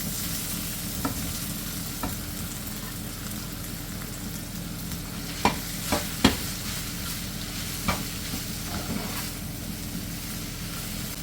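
Mushrooms fry in a pan while being stirred, giving a steady crackling sizzle with occasional sharp clicks and scrapes of the utensil against the pan, heard close and without talk.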